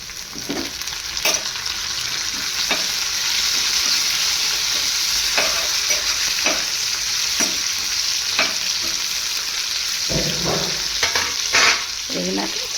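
Slit green chillies fry and sizzle in a hot pan of oil while a utensil stirs them, giving a steady crackling hiss broken by repeated scraping strokes, with no talking.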